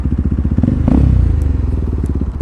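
A motorbike engine idles close by in a steady, throbbing rumble with light clatter and thuds as the bike is parked and eased into neutral, somewhere in Japan.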